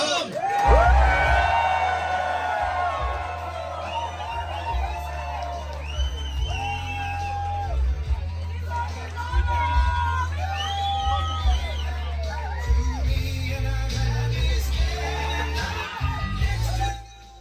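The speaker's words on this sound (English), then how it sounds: "Look at the crowd. They are just so excited to see him." A large rally crowd in Iowa cheers and whoops for Donald Trump, continuous loud shouting and yelling with scattered high whistles, a dense roar that rises and falls throughout.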